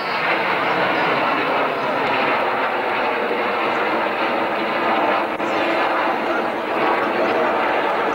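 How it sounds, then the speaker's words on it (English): Red Arrows jets fly in formation at the 1991 Leicester Airshow, a loud, steady broadband engine roar holding throughout, heard from the ground with a commentator talking over it. "Pulling up now from our right is the shape featuring five aircraft in line astern and five in line abreast."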